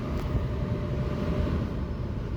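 A 2013 Mazda CX-9 engine idles steadily, a low, even rumble that holds at a constant level throughout without any voices.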